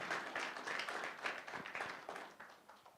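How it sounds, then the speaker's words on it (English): Small audience at a meet-up giving a round of applause, faint but steady scattered clapping that tapers off toward the end. "Round of applause for Marav."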